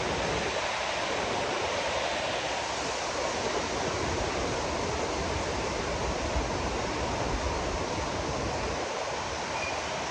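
Steady broadband rush of water flowing in a village stream, continuous and fairly loud with no breaks, heard alone without voices.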